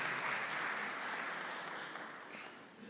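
Steady applause from an audience in a large hall, a soft, continuous wash of many hands clapping at a distance that slowly tapers off.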